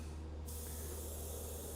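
A double-action airbrush sprays paint onto a model Star Destroyer bridge, a steady, close, even hiss that runs without a break.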